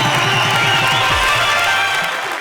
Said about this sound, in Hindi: इनके लिए एक बार जरा जोरदार तालियां